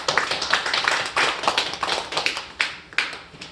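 A church congregation bursts into applause to celebrate the new year, dense overlapping clapping with bright sharp bursts that swell and ebb across the room, no talking.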